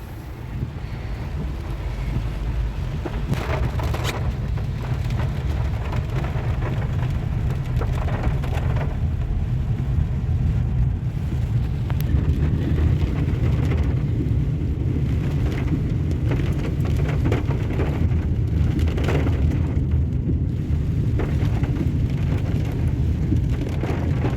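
Heavy rain at Vadanappally beach pours down in a dense, steady roar mixed with gusting wind buffeting the microphone, continuous and loud throughout, with no voices.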